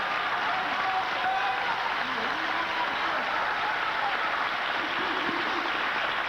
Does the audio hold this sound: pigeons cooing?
no